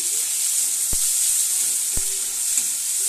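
Spices with chilli and turmeric powder sautéing in a pan make a loud, continuous hiss and sizzle, broken by a couple of sharp knocks of a utensil against the pan.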